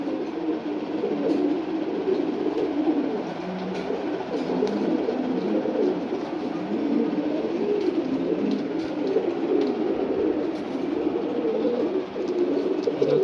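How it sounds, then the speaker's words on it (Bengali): Several khaki pigeons coo together in a continuous, throaty murmur, their low burbling calls overlapping steadily and fairly close throughout, with no voices. "এটা হচ্ছে কাকি কবুতর, দেখুন"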